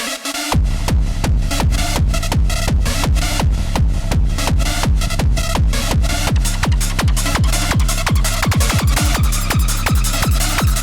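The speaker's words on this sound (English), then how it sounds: "all of these sounds, except for the hi-hat, are coming from Chro-Nyx, even the kick and rumble." Hardcore track built on the Chro-Nyx synth plugin, a model of the Access Virus line, with its kick and rumble also from the synth and only the hi-hat from elsewhere: loud, steady pounding kicks under sustained distorted synth layers, no voices.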